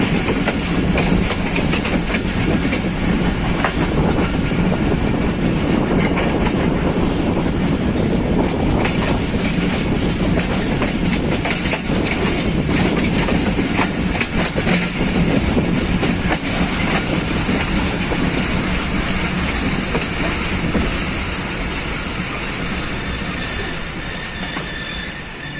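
A Pakistan Express train runs along the rails between Rawalpindi and Faisalabad, a loud, steady rumble with continuous wheel noise and faint squeals throughout, no voices.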